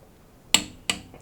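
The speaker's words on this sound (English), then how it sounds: "So we're just gonna turn the nut. Right, turn the nut there. And hear the sound click." Two sharp metallic clicks close together from a torque wrench on a nut on a Perodua Myvi, crisp and near, with a faint third tick after.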